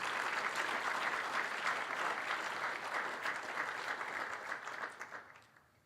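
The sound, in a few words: audience applause welcoming the IFC Vice President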